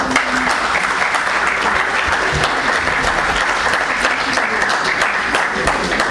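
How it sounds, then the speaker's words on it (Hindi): An audience at an Urdu mushaira poetry gathering applauds a poet, producing dense, continuous clapping of a sizable crowd at steady loudness for several seconds. "आपकी भरपूर तालियों में।"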